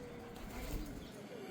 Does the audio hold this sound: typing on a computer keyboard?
no